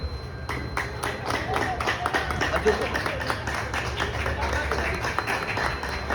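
An audience clapping at a ceremony held by a thalassemia control organisation, a run of steady rhythmic handclaps at a brisk even tempo, with a speaker's voice running over the top and a low hum underneath.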